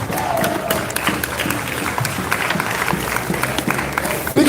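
An outdoor crowd at a Denver solidarity march claps and cheers in a steady, dense wash of applause, with a short sharper burst at the end.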